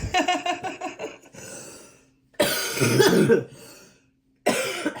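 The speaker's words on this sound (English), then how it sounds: "I'm so sorry about the coughing, you guys." Several harsh coughs come in bursts, close to the microphone, with short pauses and a quieter throat-clearing stretch between them.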